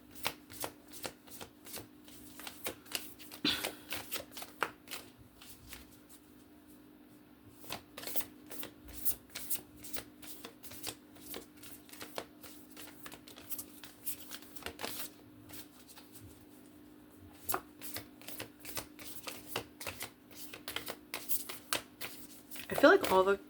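Cards are shuffled in repeated quick riffles and soft slaps, close and crisp, with quiet pauses between bursts and a low steady hum underneath.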